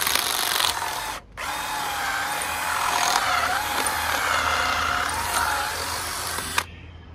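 Power drill at work on the rear end bushings of a 1989 Mustang GT, whining steadily and loudly, cutting out for a moment early on, then running on before stopping near the end.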